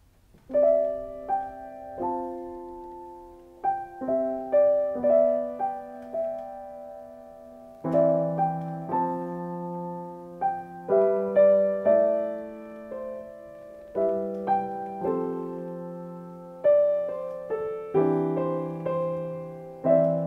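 Solo piano plays a hymn arrangement, with clear chords and melody notes struck in phrases that ring and decay, separated by brief pauses.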